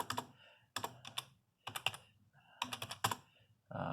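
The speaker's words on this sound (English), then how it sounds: "just have to do there and just type in all the numbers" Numbers are typed into EHR software on a computer keyboard in quick clusters of close, crisp key clicks, with short pauses between the bursts and no talking.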